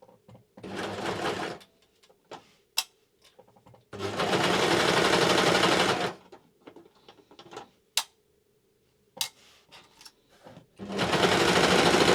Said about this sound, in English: I'm going to join these straps on the overlocker.